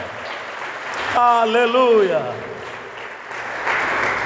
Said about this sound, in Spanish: Fuerte aplauso al Dios de los cielos.